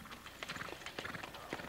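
Harness horse hooves clip-clop in a quick, uneven rhythm on a hard surface, moderately close, with some voices murmuring faintly underneath.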